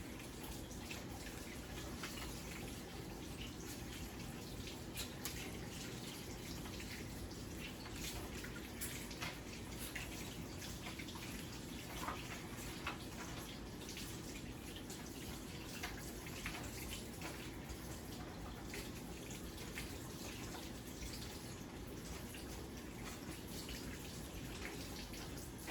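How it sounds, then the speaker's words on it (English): Water runs steadily from a kitchen tap into a sink while hands are rinsed clean of sticky potato goo, a continuous broadband splash with faint irregular drips and no talking. "Wash up my hands here."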